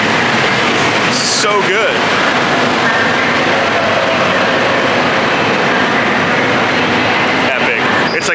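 Disneyland parking lot trams roll past with a steady loud rumble and road noise, a passenger vehicle heard from on board, with a person speaking briefly over it.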